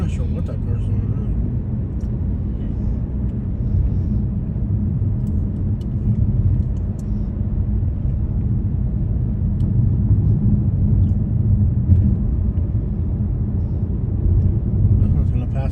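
Cars drive along a road in El Centro, California, with vehicles passing by: a continuous low rumble of engines and tires throughout, and people talking over it.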